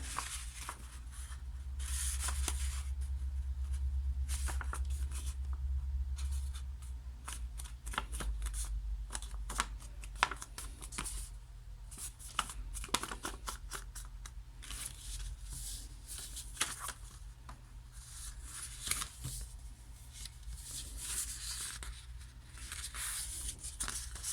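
Paper is creased and folded by hand while making an origami dinosaur, a quiet run of crisp rustles, rubs and sharp fold clicks over a low steady hum.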